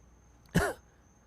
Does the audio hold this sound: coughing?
yes